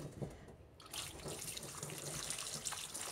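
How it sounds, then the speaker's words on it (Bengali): Water runs from a kitchen tap over cut potatoes for a potato dish, a steady close splashing rush that begins after a brief quieter moment. "এখন আলুটাতে না আমি জল দিই।"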